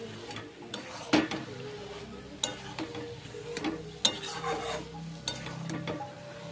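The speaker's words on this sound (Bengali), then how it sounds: "আর একটু হালকা নেড়ে নেব" Kola mocha (banana flower) with prawns stirred in a pan, sharp utensil scrapes and clinks recurring every second or so over a soft background sizzle, no talk.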